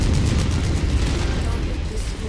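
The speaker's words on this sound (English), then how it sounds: "Multiple nuclear explosions." Heavy, rumbling explosions from the MechWarrior 5 mech combat video game roll together into a dense, continuous boom with deep low-end thunder, loud throughout with no clear gaps between blasts.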